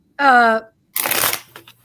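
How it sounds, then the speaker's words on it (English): A short burst of cards being shuffled during a mediumship reading comes through close and crisp, following a brief spoken word and trailing off into softer rustles. "Is my shuffling too loud?"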